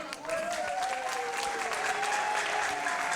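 Loud, sustained applause from a studio audience at a Gabonese youth music talent contest, dense clapping filling the whole stretch with a faint tonal hum beneath.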